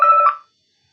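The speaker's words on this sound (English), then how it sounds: "Sorry about that, I was getting a phone call." A phone's call notification chime rings out briefly in a sewing class, a short electronic tone of a few stacked pitches that shifts once and then stops, leaving silence.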